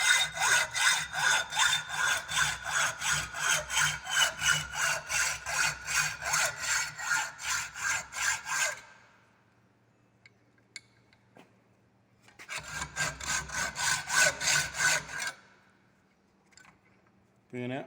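A hand saw cuts a workpiece in a fitting workshop with rapid, regular back-and-forth strokes, loud and close, in two bursts separated by a pause of several seconds.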